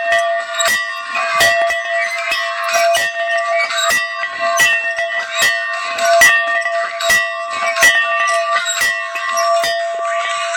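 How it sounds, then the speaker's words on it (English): The Notre Dame victory bell rings out in repeated bright, metallic strikes at a steady rhythm, each clang leaving a long sustained ring that overlaps the next, loud and close. "it's time for me to ring my bell"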